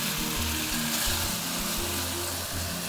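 Chicken stir fry sizzling steadily in an oiled pan, a dense continuous frying hiss with low rumbling underneath, close and fairly loud throughout with no talking.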